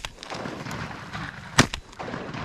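A single shotgun blast fired at ducks during a rainy duck-hunting opener in Alabama, a sharp close report cutting through steady rain and outdoor background noise.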